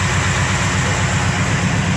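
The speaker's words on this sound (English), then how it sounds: "Engine sounds nice and quiet." A 1984 Chevy pickup truck engine idles with a steady low rumble and even pulsing, close and constant, with no voices.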